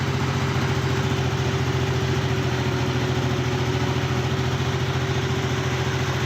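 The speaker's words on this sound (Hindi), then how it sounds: "ट्रैक्टर लेकर ड्राइवर आगे बढ़ा" A tractor engine hauling a sand-laden trolley runs with a steady, loud mechanical drone and an even chugging pulse, continuous and close, with no voices.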